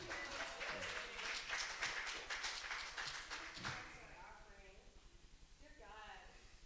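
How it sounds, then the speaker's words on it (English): A church congregation at a Sunday service applauds a musician. The clapping is fairly faint and lasts about four seconds before tapering off, and a voice speaks under and after it. "Let's give him another round of applause"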